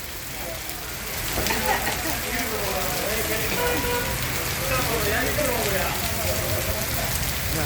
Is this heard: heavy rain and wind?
yes